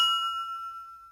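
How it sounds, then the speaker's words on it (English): A single struck glass used as a sample rings out with a clear, bright ding that decays smoothly over about a second, alone and close. "Let's import the sound of the glass."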